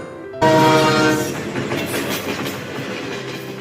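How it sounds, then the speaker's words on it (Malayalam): A train horn blares loudly, then the rumble and rolling clatter of a train pulling away continues steadily. "ട്രെയിൻ മെല്ലെ നീങ്ങി തുടങ്ങിയിരിക്കുന്നു."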